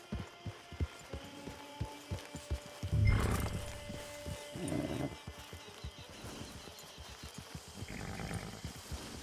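Horse in the Red Dead Redemption 2 video game, its hooves clip-clopping in a steady rhythm close by, with a snort and whinny partway through and a soft game score underneath.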